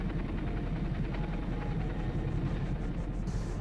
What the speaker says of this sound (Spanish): El helicóptero me queda bien cenital